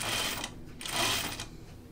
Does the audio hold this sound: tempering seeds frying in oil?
no